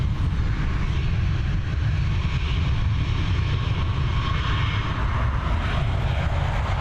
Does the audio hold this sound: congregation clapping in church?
no